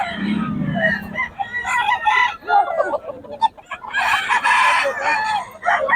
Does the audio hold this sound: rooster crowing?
yes